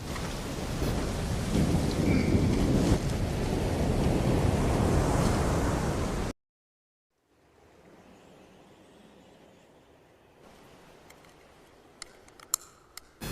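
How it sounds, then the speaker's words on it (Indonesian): Heavy rain pours with a roaring, gusty storm wind, then cuts abruptly to a much quieter, muffled patter with a few sharp knocks near the end. "Menjelang malam tiba, tampaknya badai kembali datang disertai hujan lebat di mana Chuck memutuskan untuk berlindung di"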